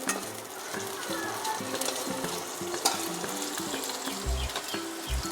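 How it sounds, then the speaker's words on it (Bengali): Paneer pieces sizzle and fry in a pan while being stirred, with soft scraping strokes and a couple of louder low thumps near the end over the quiet bubbling. "এই পনিরগুলোকে আমি একটু দিয়ে দিলাম হালকা একটু নেড়ে নেব পনিরগুলো"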